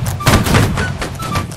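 A line volley of musket fire in the Napoleonic-era game Holdfast, a dense cluster of loud overlapping shots rolling out over about a second, followed by a quieter echoing tail.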